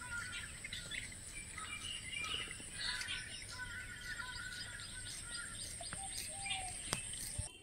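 Birds call and chirp over an open field where herons gather, on an overcast morning, mixed with a steady high insect drone and constant outdoor hiss, fairly distant and even throughout.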